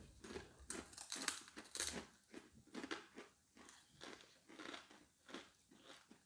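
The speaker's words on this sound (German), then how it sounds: "knusprig. Knuspriger als normale Chips." Crisp potato chips seasoned with red volcano pepper being bitten and crunched up close, a steady run of sharp, crackly crunches in uneven rhythm with no talking.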